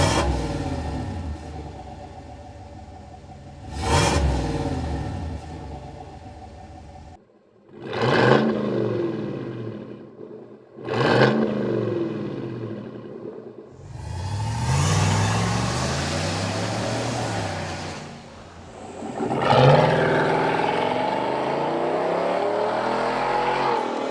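A Chevrolet Silverado pickup with a Corsa exhaust revs hard in several bursts, each rising then falling, followed by longer sustained roars, loud and near with no voices.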